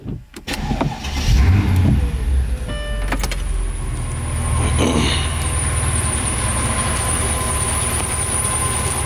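A Honda CL500 motorcycle engine idles steadily and close by after a brief start-up clatter, with a constant mechanical drone and a thin high-pitched whine or squeak riding on top throughout.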